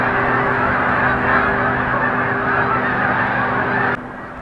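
A large flock of geese-like birds honks and calls at sunset, a dense continuous chorus from a distance, dropping off abruptly near the end.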